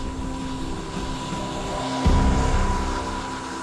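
A Lockheed Martin P-3 Orion turboprop patrol aircraft's engines drone steadily and loudly, a constant humming roar that swells slightly partway through.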